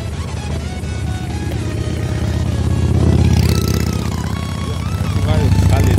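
Motorcycle engines rumble and rev nearby amid a crowd at an open-air street market, with people talking and shouting over the steady low drone that swells midway.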